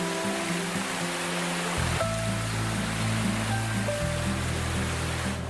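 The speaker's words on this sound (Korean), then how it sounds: "운장산이 몰래 숨겨놓은 보물 같은 존재 이끼 폭포" A moss-covered waterfall on Unjangsan mountain in Jinan rushes in a steady, loud broadband roar throughout, overlaid by background music with sustained tones.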